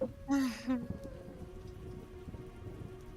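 Steady rain patters through a tabletop game session, a soft continuous wash with a brief voiced sound near the start, then the even drizzle carries on alone.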